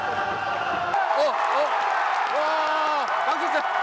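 Crowd applause in the stands at a baseball game, a steady wash of distant clapping and cheering with voices talking nearby over it throughout.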